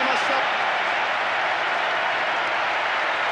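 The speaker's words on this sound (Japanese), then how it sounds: "ルーニー、ハットトリック、スタジアム中が大歓声で揺れています。" Stadium crowd in the football video game Winning Eleven 10 roaring with a dense, loud, continuous cheer after a goal in a Manchester United versus Lyon match.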